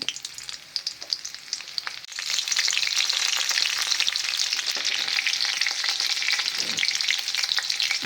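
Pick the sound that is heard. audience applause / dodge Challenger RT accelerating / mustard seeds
mustard seeds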